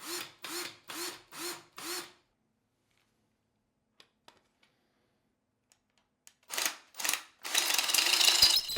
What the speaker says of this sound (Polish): wymyśliłem nowy sposób na mocowanie jeszcze kwadratowego kołka w wiertarce